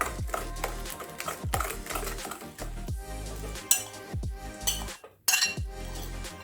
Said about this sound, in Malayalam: ഇതെല്ലാം ചേർത്തിട്ട് നന്നായി മിക്സ് ചെയ്യുക